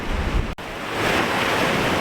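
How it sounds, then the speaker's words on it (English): Strong wind of roughly 40 to 45 mph roars over high-tide surf breaking on a narrow strip of sandy beach at Kildonan, Isle of Arran; a steady, loud, broadband rush with wind buffeting the microphone and a brief dropout midway. "see if we can be heard at all there in a 40 or 45 mile an hour wind, whatever it is, pretty strong in the high tide"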